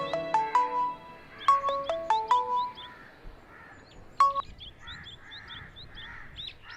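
A phone ringtone plays a short electronic melody of bright, chirping tones, repeating in bursts before fading to quiet.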